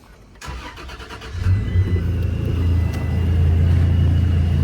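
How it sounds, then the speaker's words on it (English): A ProCharger-supercharged truck engine cranks after a short pause and catches, settling into a steady, loud, close low rumble that builds slightly as it idles. "let's go ahead and start the truck up"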